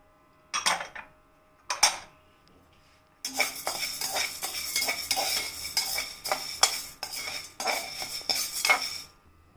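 Chana dal and urad dal are stirred and dry-roasted in a pan, starting with two isolated scrapes before a long run of rhythmic metal-spoon clinks and scraping against the pan, close and fairly quiet, with a faint sizzle.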